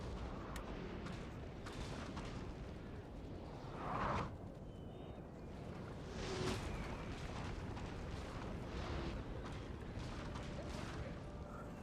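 Cannon artillery fires in the Napoleon Total War video game, with a couple of dull, distant booms rising out of a steady rumbling battle background, while someone talks quietly at times.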